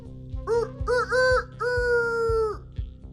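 A rooster crows loudly and close in a drawn-out cock-a-doodle-doo, rising in short bursts before a long held final note, over a steady low rhythmic pulse in the background.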